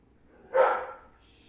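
A single short bark from a dog indoors, fairly close and alone against a quiet room.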